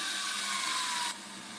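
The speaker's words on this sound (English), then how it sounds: "You want the drill to be in line with the screw." A power drill drives a T25 screw into wood, a loud steady whirring buzz that runs continuously, then drops slightly in pitch and level near the end as the screw seats, with no talking.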